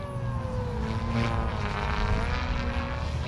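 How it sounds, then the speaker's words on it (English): A small RC helicopter's electric motor and rotor drone steadily and close by, the whining pitch sagging slightly as the motor bogs under hard collective. "Good RPM, but bogging on the collective."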